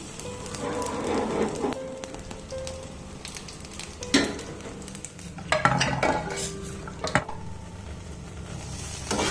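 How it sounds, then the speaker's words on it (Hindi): Ghee and cumin tempering for dal sizzling steadily in a pan, with a soft continuous crackle broken by a few louder stirring clatters and utensil knocks. "दाल में मैं अभी तड़का लगा दे रही हूँ"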